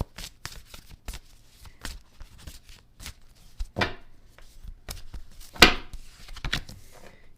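A tarot deck shuffled by hand at close range: a long run of crisp card taps and flicks, with a few louder riffles and a sharp slap, and little talk.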